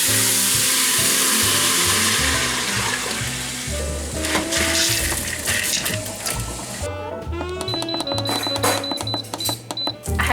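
Fatback strips frying in a pan in a home kitchen, continuous crackling sizzle up close, joined partway through by clattering and a burst of sharper spitting and popping.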